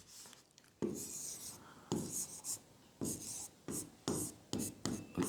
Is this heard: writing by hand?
yes